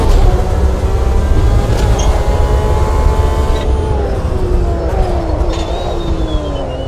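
Porsche race car engine in a Carrera Cup racing video game, a loud continuous whine shifting pitch as it accelerates and lifts, heard without any voices.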